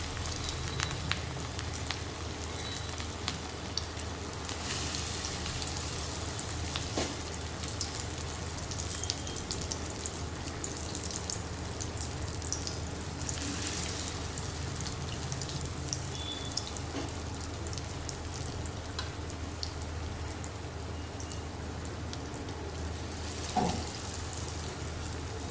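Battered bottle gourd fritters stuffed with mustard sizzle in hot oil, a close, continuous crackling hiss like steady rain that runs unbroken with occasional small pops and no voices.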